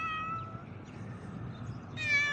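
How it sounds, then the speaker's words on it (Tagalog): A stray cat in a seaside park meows near a bridge, giving two clear drawn-out meows, one at the start and another at the end, over low outdoor background noise. "Oh, may pusa."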